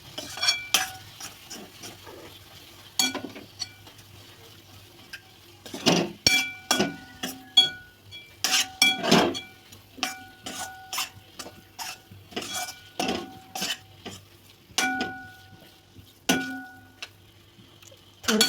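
Besan mixture for zunka is stirred in a pan with sharp, irregular metallic clinks and scrapes of the spoon against the rim, close and fairly loud, with quiet gaps between bursts and no talking.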